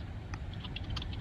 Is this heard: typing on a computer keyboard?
yes